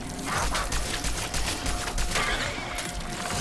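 Gunfire in the Cronos: The New Dawn horror game, a loud continuous volley of rapid shots and impacts packed densely over a few seconds.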